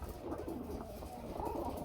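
Pigeons cooing in a loft of fancy breeding birds, low soft coos repeating under a steady murmur of other birds nearby, no talking.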